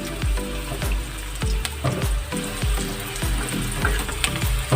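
Chopped onion sizzles in hot oil in a pan, a steady close crackle with repeated soft stirring knocks, and no voices.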